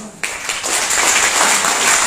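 Audience applause at a success training seminar in Noida, a dense broadband clapping that swells in at about a quarter second and holds steady, loud and continuous to the end.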